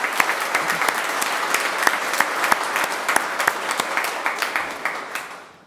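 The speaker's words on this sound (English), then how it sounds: "So we'll give them a round of applause, please." An audience at a ribbon-cutting news conference for a technical center applauds, a dense, even wash of clapping with sharper individual claps standing out, tapering off at the end.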